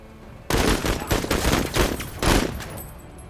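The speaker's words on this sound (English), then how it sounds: "You get to shoot again then." Gunfire in the squad tactics video game MENACE comes as a loud, dense volley of rapid overlapping shots lasting a few seconds after a brief quiet lead-in, with no talk over it.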